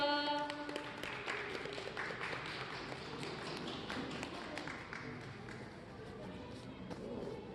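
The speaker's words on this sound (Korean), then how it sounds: "읍장님 박수로 맞이해 주세요" An audience at the 2022 Namyang-eup academic forum gives a steady, dense round of applause to welcome the town head to the stage, with a few voices mixed into the clapping.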